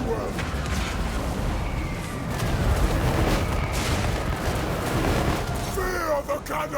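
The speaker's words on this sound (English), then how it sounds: "Fear the cannon!" Cannon artillery fire in a Total War: Warhammer 2 battle, a dense rumbling barrage of booms over loud battle noise with no voices.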